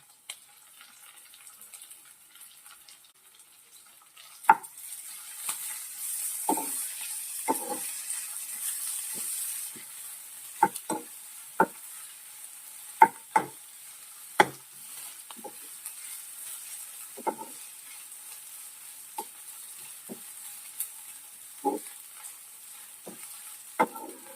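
Crushed ginger, garlic and green chilli sautéing in a pan, a quiet steady sizzle broken by sharp spoon taps and scrapes at irregular intervals, close and fairly faint.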